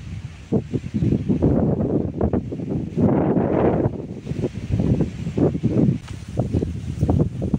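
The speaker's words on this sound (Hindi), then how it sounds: "काफ़ी इतनी अच्छी हवा चल रही है" Gusty wind blowing outdoors in a village, buffeting the microphone in a steady, loud roar with repeated swells and rumbling bursts, no talking.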